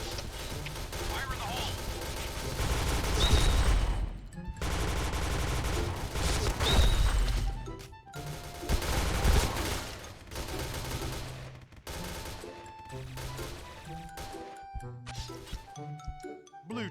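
Gunfire in the online shooter Point Blank, rapid bursts of shots in clusters with short gaps between them, loud and close, mixed with game effects while someone talks over parts of it.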